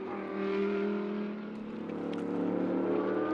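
Number 7 Mercedes AMG race car circling Spa-Francorchamps in qualifying, a steady mid-distance engine drone that holds its pitch and swells slightly, heard faintly on its own.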